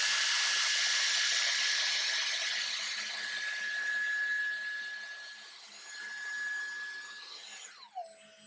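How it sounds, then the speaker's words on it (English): A Dyson AirStrait hair straightener running in dry mode gives a loud, steady airflow whoosh with a thin whine, swept once along a strand of hair, then cut off abruptly with a falling tone near the end. "I'm going to turn my AirStrait on and I'm going to put it in dry mode"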